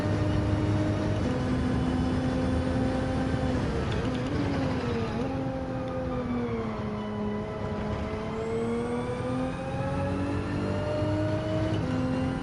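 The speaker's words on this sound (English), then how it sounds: "this car is it's pretty legit. It's based on the BMW Z4." Race car engine in Gran Turismo 7, a BMW Z4-based car, holding a loud sustained drone that shifts pitch through upshifts and revving, continuous without pause.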